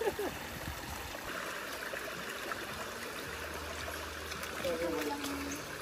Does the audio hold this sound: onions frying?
no